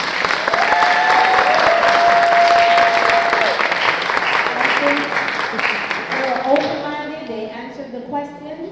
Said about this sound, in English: I think they deserve another round of applause for you.